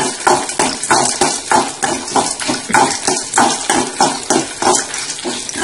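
Chana dal, urad dal, cumin, fenugreek, black pepper, dried red chillies and curry leaves frying in hot oil in a pan, with loud, continuous sizzling and crackling and rhythmic stirring scrapes.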